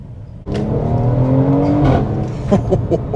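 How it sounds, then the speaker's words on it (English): The V8 of a 2022 Mercedes-AMG GLC 43 SUV roars loudly as it accelerates, the exhaust note climbing steadily before a brief lift and crackling, uneven bursts. "And I can never get tired of hearing that exhaust."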